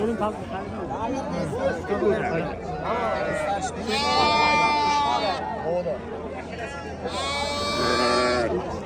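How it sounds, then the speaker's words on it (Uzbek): Ewes and lambs bleat loudly in long wavering calls at a crowded livestock market, over a busy crowd of people talking nearby. "Navbatdagi qo'zili qo'ylarimiz."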